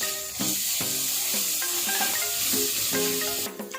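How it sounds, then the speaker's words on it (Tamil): Ginger garlic paste fries with softened onions in a pan for chicken pepper gravy, a brief close hiss and sizzle, with music playing over it. "இப்போ நம்ம அரைச்சி வச்சுருக்கிற இஞ்சி பூண்டு பேஸ்ட்டை அது கூட சேர்த்துக்கலாங்க."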